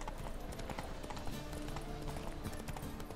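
Hooves of Roach, a horse in The Witcher 3, clip-clop at a steady walking pace through a city street, close and continuous under a busy ambient bed.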